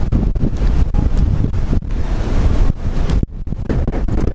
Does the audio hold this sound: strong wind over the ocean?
yes